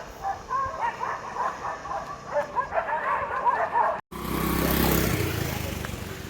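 Several dogs barking repeatedly outdoors at night near a waterfall spot, sharp mid-distance barks over a steady rumble, followed by a sudden cut to a close, loud broadband engine-like roar.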